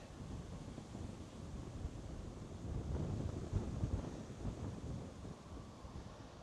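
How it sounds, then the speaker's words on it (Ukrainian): Gusty wind at a small lake buffets the microphone with a low, uneven rumble that swells in the middle and eases off. "Вітер такий непонятний."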